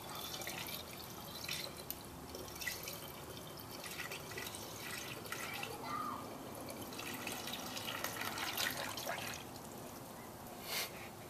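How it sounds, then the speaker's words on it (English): Water is poured into the turbo coolant tank of a Subaru during a timing belt job, giving a steady soft trickle with scattered drips and splashes, close and fairly quiet, with no talking. "Start by pouring the rest of your water in there for a 50-50 mix."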